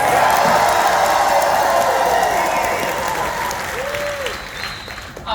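Game show studio audience bursts into loud applause and cheering, steady dense clapping with scattered whoops that gradually thins toward the end.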